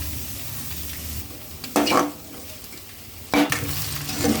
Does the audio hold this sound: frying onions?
yes